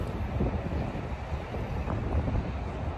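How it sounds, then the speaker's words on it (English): Strong wind gusts outdoors in Chicago buffet the microphone, a loud, continuous low roar that surges and eases without pause and with no voices. "So windy out here."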